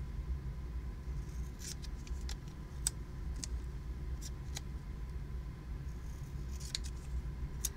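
Scissors snip through a layered homemade scratch-off card, with a few crisp short cuts at irregular moments over a steady low background rumble.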